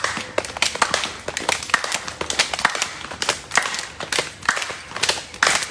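Sharp hand claps repeat in a steady fast rhythm during jumping jacks in a daily home exercise session, close and fairly loud, with light taps between them and no talking.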